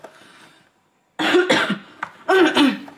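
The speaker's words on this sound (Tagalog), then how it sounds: "Grabe talaga itong ubo namin" Two loud, close harsh coughs from a person with a lingering week-long cough, each a rough burst after a brief quiet pause.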